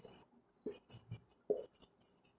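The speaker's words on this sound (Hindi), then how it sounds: "पहले मैं नाम लिख रहा हूँ" Chalk or marker scratches across a board in several short bursts while names are being written, faint and close, with brief pauses between strokes.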